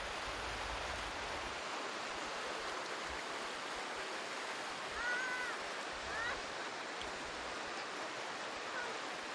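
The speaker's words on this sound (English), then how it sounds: "this waterfall leads to one that's a little more treacherous right here" Waterfall pouring over rocks in the Belize jungle, a steady, loud broadband rush of falling water filling the whole stretch, with a faint voice briefly surfacing midway.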